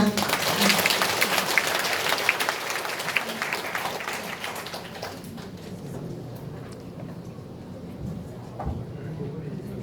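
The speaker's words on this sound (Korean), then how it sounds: "박수 부탁드립니다." Fairly quiet clapping from a modest audience in a third-floor meeting hall of a livestock cooperative in Gumi, Korea, honoring a retiring office director; the applause thins out halfway through, leaving room noise and scattered claps.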